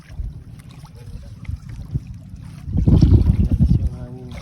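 Wind buffets the microphone out at sea aboard a small fishing boat, low rumbling gusts building to a loud blustery surge near the end, with faint voices in the background.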